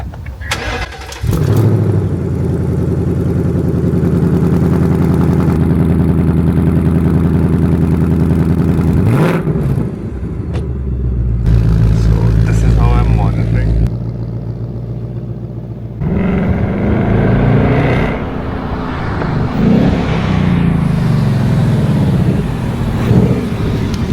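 A Ford Mustang GT engine cranks and fires, then settles into a loud, steady rumbling idle close by. It briefly dips and swells again with a few light revs.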